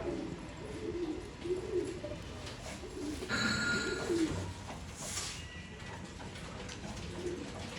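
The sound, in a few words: pigeons cooing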